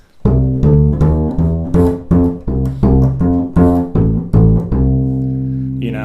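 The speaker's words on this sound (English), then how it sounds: "So it's almost like a root fifth bass line" A bass guitar plays a steady bluegrass root-fifth line of repeated paired notes, bouncing between two pitches, with the final note left to ring out.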